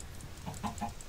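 Minecraft chicken clucking in a quick run of three short, close clucks over faint background noise, with no talking.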